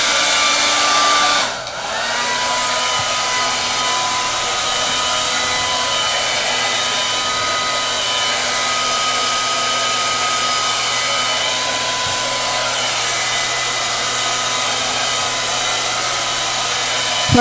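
Hair dryer blowing on slime, a steady loud whooshing hum that dips briefly near the start and then runs on unbroken, close to the microphone.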